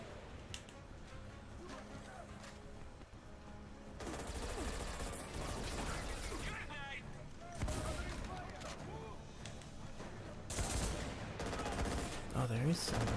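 Mounted guns firing in the Xbox 360 shooter Army of Two: The 40th Day, sustained bursts of automatic gunfire and explosions that come in loud surges, with voices talking between and under the shooting.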